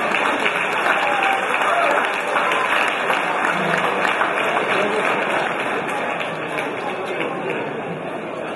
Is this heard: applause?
yes